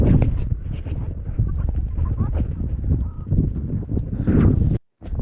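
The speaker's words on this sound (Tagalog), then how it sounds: "Hangin." Loud wind buffeting the microphone outdoors on a mountain road near Mt. Olis, Atok, Benguet, a steady rumbling roar that drops out briefly near the end.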